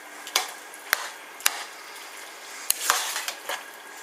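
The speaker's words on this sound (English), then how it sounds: "So we're just going to stir this in now." A spoon stirs browned mince into spaghetti bolognese sauce in a pan, making sparse, quiet clinks and scrapes against the metal spread over a few seconds.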